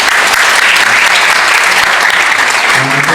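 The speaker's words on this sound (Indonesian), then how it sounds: "Mari kita kasih tepuk tangan dulu." Loud, dense audience applause at an international arbitration seminar, a continuous burst of clapping from a large crowd with no talk over it.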